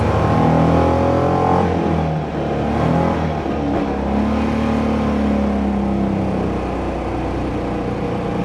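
A BMW Isetta 300 microcar accelerates. Its small engine revs up close and loud, and the whining pitch rises and steadies through the clip with no speech.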